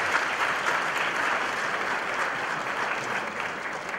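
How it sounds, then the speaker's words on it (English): Congregation applauding during a church wedding ceremony, a steady, even wash of many hands clapping that holds at full strength with no talk over it. "another round of applause"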